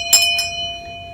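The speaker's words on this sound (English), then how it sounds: "ring that notification bell" A notification bell sound effect chimes with two quick metallic strikes, its clear tone ringing on and slowly fading after them.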